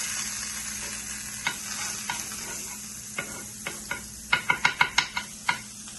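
Butter sizzling in a skillet for old-fashioned fried bread, a constant close hiss with a spoon scraping and tapping against the pan, the taps bunching into a quick run near the end.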